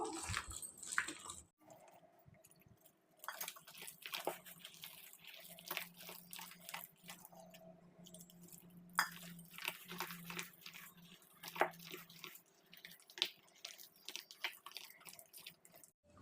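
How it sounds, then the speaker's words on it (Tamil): Wet squishing and soft slapping from hands kneading thick rice flour and urad dal batter with a little water, irregular and close, with occasional drips and splashes. "கொஞ்சமாக தண்ணி சேர்த்து இதை பிசைஞ்சிக்கோங்க"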